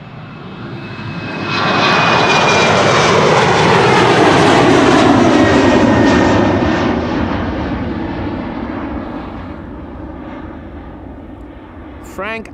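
A KLM airliner departs Amsterdam Schiphol Airport, its engine roar swelling loud from about two seconds, holding strong, then slowly fading as it climbs away, with a brief sharp sound at the very end.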